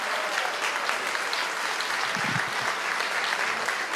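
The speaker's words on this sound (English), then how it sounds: "clap your hands in the room. Make a little noise." Audience at a gala clapping hands in a large room, a dense, steady wash of applause that holds evenly for the whole stretch, with a faint low murmur of a voice briefly underneath.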